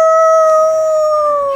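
A person imitates a wolf with one loud, sustained howl held on a steady pitch, drifting slightly downward and fading at the close.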